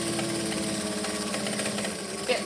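A sewing machine back-stitching while sewing up a pouch, running as a steady, fast mechanical whir with a rapid repetitive needle clatter throughout and a small bump near the end.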